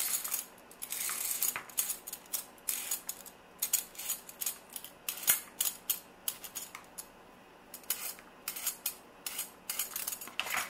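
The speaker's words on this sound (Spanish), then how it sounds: "Lo primero que vamos a hacer es pelar nuestras zanahorias, así de esta forma." Repeated scraping strokes of a peeler across carrots for a melon and carrot agua fresca, quick crisp rasps in an uneven rhythm with small clinks in between, close and steady, no talking.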